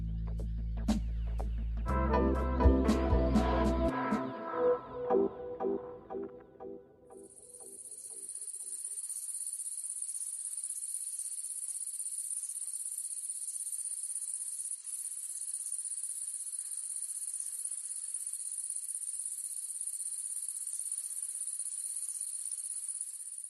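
A swarm of bees clustered on a branch hums in a dense, continuous high-pitched buzz that sets in after an opening of fading music and carries on steadily to the end.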